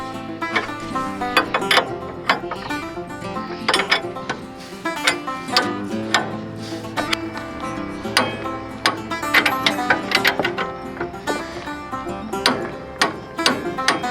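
A ratchet clicks rapidly while tightening upper control arm bolts on a lifted Lexus GX470, with close, repeated bursts of pawl clicks and metallic turning throughout.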